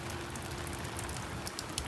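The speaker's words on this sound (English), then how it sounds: "it's still raining by the way" Rain drumming steadily on a van's canopy, a dense even patter with occasional heavier drops, close and continuous without any talking.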